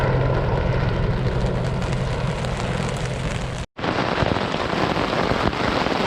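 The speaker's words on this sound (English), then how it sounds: "Light showers have turned into an absolute downpour." A heavy rain downpour falls during a bream fishing trip, a loud, dense, steady hiss close by with a brief dropout partway through before the roar resumes.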